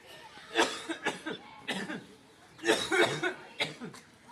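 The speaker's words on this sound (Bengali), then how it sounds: "এখন আমার নিজেরই কাশি হইতেছে।" Someone coughs repeatedly in short, harsh bursts at close range, with a few laugh-like sounds mixed in between the coughs.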